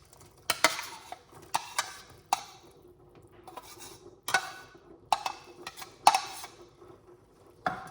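Spoon scraping and clinking around a pot of water with cut okra, stirred in irregular bursts of sharp knocks and rubs, close and fairly quiet, with no talking.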